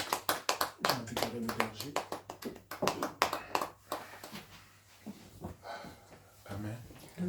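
A church congregation at a Sunday service claps in rhythm to acclaim the Lord, with sharp, close, regular claps that fade midway and return sparsely, with a voice speaking over them.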